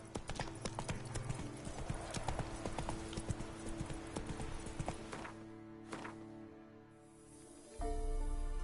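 Horse hooves clip-clop in a video game, a fast rhythmic run of near, crisp hoofbeats that slows and fades toward the end, with an occasional voice speaking over it.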